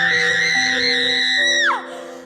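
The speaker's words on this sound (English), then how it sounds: "The girl screamed at the top of her lungs, and bolted out of the room like she'd lost her mind." A girl screams at the top of her lungs, one loud, sustained, piercing cry that holds steady and then drops off sharply at the end, with no talk around it.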